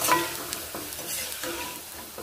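Rice fritters made from leftover cooked rice fry in hot oil, giving a steady close crackle and hiss with a few brief scrapes, no voices.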